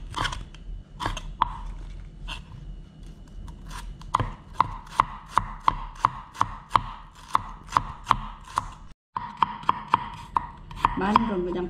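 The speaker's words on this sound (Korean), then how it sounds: "파프리카는 감자치 정도로 얇게 썰어주고요" A knife thinly slices bell pepper on a cutting board while prepping Chinese stir-fried shredded potatoes: rapid, evenly spaced crisp chops close up with no talk, pausing for an instant before the steady cutting resumes.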